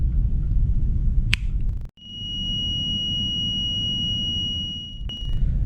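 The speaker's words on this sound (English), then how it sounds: "He can notify the bridge by pressing this button, and alarm will be raised on the bridge." Aboard a cargo ship's hospital, a pressed button sets off a steady high-pitched electronic alarm tone lasting about three seconds, preceded by a click and a low room rumble, with no speech.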